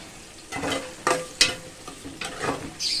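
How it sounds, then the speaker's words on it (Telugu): Onions frying in a pan with curry leaves for a fish curry, with a soft sizzle under several distinct stirring scrapes and clanks of a spoon against the pan, close and moderately loud. "అయితే ఉల్లిపాయ మంచిగా ఫ్రై కానండి"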